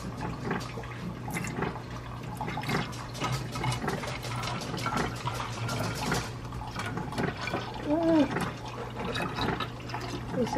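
Liquid poured from a container into a bottle at a kitchen counter, a soft continuous gurgle and splash over roughly ten seconds, faint and close, with a voice briefly audible.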